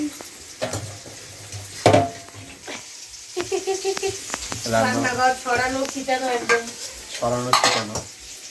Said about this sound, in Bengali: এখন চলছে কচু ভাজা চলছে কচু ভাজা যে কচুটা তোলা হলো সেইটা ভাজা হচ্ছে